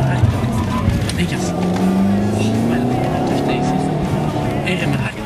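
Race car in a driving competition, engine revving and tires working under hard braking, a loud, continuous close drone with a voice talking over it throughout.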